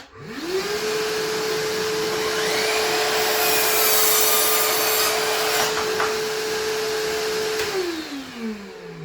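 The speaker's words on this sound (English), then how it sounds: "So next thing is, let's hear it cut. Let's turn the vacuum cleaner on." An Evolution 18V cordless mitre saw spins up with a rising whine, holds a steady high tone while cutting wood over a vacuum's roar, then winds down.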